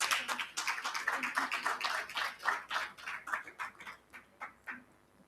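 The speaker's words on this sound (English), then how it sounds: "Tebogela, another massive round of applause." An audience at a book launch for a special issue of an election journal claps in a quick run of bursts and uneven rhythms that taper off toward the end, with no speech.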